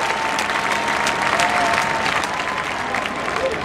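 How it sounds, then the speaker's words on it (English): A large crowd at a City Hall celebration honoring the 2010 World Series champion San Francisco Giants applauds steadily, a thick, continuous roar of clapping with scattered cheers that holds at full strength throughout. "How about a big round of applause to Bruce Bochy and Brian Sabian that put this team together"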